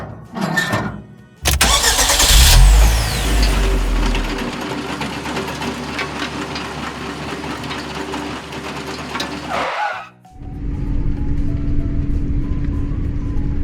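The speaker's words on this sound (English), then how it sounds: "We need to stop the dump truck quickly." Dump truck engine running loudly, a steady mechanical roar that cuts out abruptly near the end, leaving a lower idling hum.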